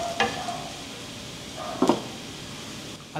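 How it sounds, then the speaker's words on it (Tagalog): Garlic sautés in a little oil in a pan for Filipino bistek, a faint, even sizzle broken by a couple of brief spatula scrapes and clinks. "Susunod na rin nating igisa ang bawang hanggang maging golden brown ito."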